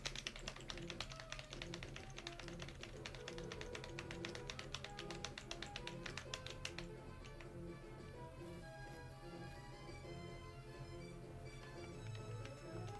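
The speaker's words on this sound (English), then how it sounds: "Like, I'm playing on a keyboard this time," Rapid clattering taps of computer keyboard keys pressed during a Metroid X-Fusion romhack game, dense and fast at first, then sparser and lighter over a steady backdrop of game music and effects.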